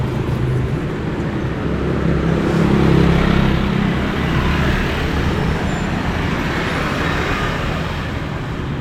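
Street traffic on a road in Vientiane, Laos, heard as a continuous loud roadside roar of passing cars and motorbikes. Engine rumbles swell and fade, and no one speaks.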